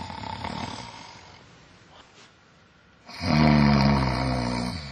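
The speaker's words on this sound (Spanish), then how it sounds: "Ronca." Loud, rasping snores close by, with a quieter breath between, then a deep, rumbling snore that swells and holds.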